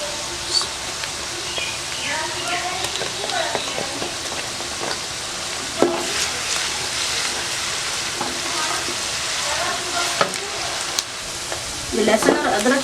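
Two tablespoons of garlic-ginger paste frying lightly in hot oil in a pan for a bitter gourd and gram lentil dish, with a steady close sizzle, stirring scrapes and a louder burst of crackling near the end.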